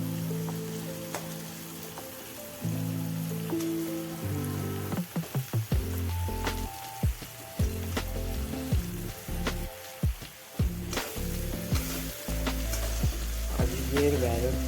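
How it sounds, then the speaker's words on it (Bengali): Onions sizzle loudly while frying in a pan for an egg curry, a steady crackling hiss with frequent spoon clatters and scrapes from stirring, close and continuous throughout. "পেঁয়াজটা এবার নরম হবে, একটু ব্রাউন ব্রাউন করবো"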